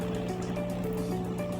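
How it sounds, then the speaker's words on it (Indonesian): Mangrove tour boat cruising through calm water at Wonorejo, Surabaya, its engine a steady low drone with tonal hum beneath continuous wash of water and waves, close and even throughout, no talk. "kapal menghasilkan gelombang arus kapal yang cukup besar"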